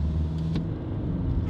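A 2016 Kia Sorento picking up speed gently on a test drive, its engine giving a steady low rumble with constant road noise throughout, heard from inside the cabin.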